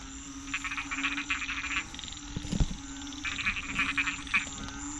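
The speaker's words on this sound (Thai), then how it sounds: "โอ้กบหลายตัวครับ" Several frogs croak among grass and water during the first rain of the year, with two long bursts of rapid, rattling calls separated by a pause and a brief thump, over a quiet outdoor background.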